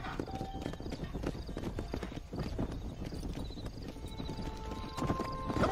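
Galloping horses in the Red Dead Redemption video game, a dense rapid clip-clop of hooves running steadily throughout with an occasional whinny, loud and close with a little faint voice in the mix.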